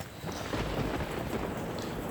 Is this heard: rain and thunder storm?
yes